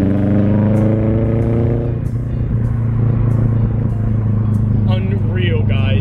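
Toyota FRS fitted with Tomei UEL headers idling, a loud low raspy exhaust rumble that holds steady and close, with a brief higher engine note near the end.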